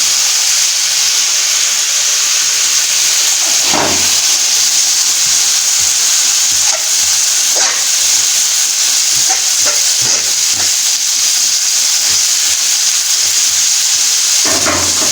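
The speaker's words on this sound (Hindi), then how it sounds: "दाल को व्यूअर्स अच्छी तरह से मसाले में मिक्स करना है और इसे अच्छी तरह से फ्राई करना है मसाले में 5 से 6 मिनट" Boiled mash daal frying in spicy masala in a pan, a loud continuous sizzle and hiss throughout with occasional stirring scrapes and clatters.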